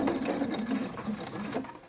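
A sewing machine stitches fabric for a pleated face mask, with a steady, rapid mechanical whirr and patter that runs continuously and close up, and no talking.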